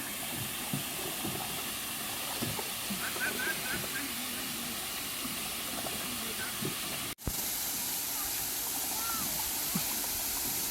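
A small waterfall rushes near a pedal boat on a pond in Khao Yai, giving a steady broadband roar of falling water that fills the scene, with faint voices mixed beneath it.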